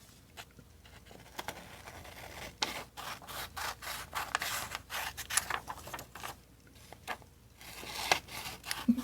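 Scissors snip through paper divider tab pages for a ring binder cookbook in irregular, close cuts and crisp rustles, with quieter stretches between the bursts of cutting.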